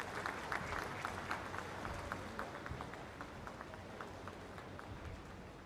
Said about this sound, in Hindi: एक बार जोरदार तालियों के साथ खड़े होकर अपने स्थान पर अभिनंदन वंदन स्वागत माननीय प्रधानमंत्री महोदय जी का।